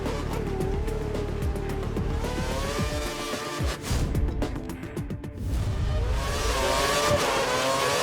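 Formula 1 race car from the F1 2013 video game with a suffering engine, its high-pitched howl loud and continuous as the revs rise and fall through gear changes, with no voices.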